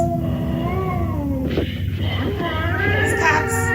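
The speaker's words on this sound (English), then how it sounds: "Going out on a cat rage sound is a little silly." Cats caterwaul in a film soundtrack, drawn-out wavering yowls rising and falling over a low background rumble, with several overlapping cries toward the end.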